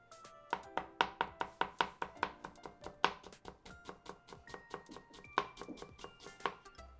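A knife minces fresh ginger on a cutting board in a quick, close, steady run of about twenty crisp knocks, briefly pausing before a final burst of chops, with no talking.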